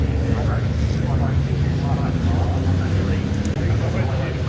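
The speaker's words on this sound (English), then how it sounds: "The revs are up." Racing truck engines in the British Truck Racing Championship rev on the starting grid at Snetterton, a loud, steady, dense roar that fills the whole stretch, with a voice faintly present underneath.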